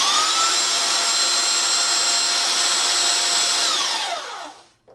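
A belt sander fitted with a 200 grit belt whines at a loud, steady pitch while sharpening an axe, then winds down and fades out over the final second, with no speech.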